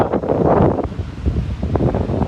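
Wind buffets the microphone on a beach while sea surf rolls in underneath, a steady rough roar that swells and eases over a couple of seconds.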